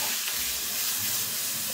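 Butter melting and sizzling in a hot pan with pepper and soy sauce, a continuous close hiss and crackle for under two seconds with no talking.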